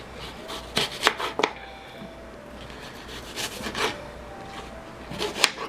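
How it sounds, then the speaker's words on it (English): Green apples are cut into small pieces with sharp, scattered knife chops against a board, several quick taps in clusters over a low steady background. "we're going to use our green apples, and we're also going to take those and cut them into small pieces"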